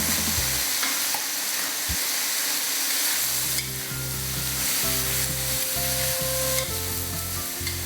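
Green leafy vegetables are stir-fried in a pan for udon noodles with pork, making a constant close sizzle broken by a few stirring knocks and scrapes, with no talking.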